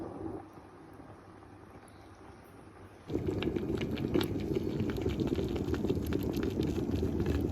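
A homemade pineapple mango salsa of tomatoes, fruit and peppers simmers in a covered pot for water bath canning. A faint low hum gives way to steady close bubbling and popping.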